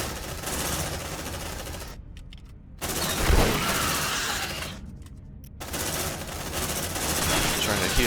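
Sentry guns in the Aliens: Dark Descent game fire in sustained, rapid bursts with dense rattling gunfire, broken by two brief near-silent gaps, with a low thump between them and louder firing resuming at the end.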